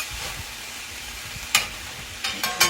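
Mustard greens cooking down in a hot pan give a soft, continuous sizzle, broken near the end by a few sharp clanks of a utensil against the pan.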